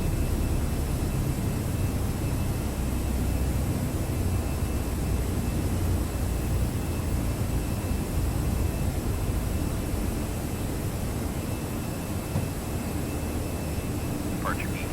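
Airbus A320 jet engines roar loud and steady during a takeoff roll in a Prepar3D flight simulator, a dense unbroken rumble and hiss filling the whole stretch.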